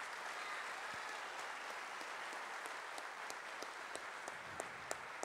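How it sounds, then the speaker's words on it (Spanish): A theatre audience at Teatro Dante claps steadily through an accordion show in 2014. The applause is continuous and even, with a few sharper individual claps near the end. "Para ellos dos, un fuerte aplauso"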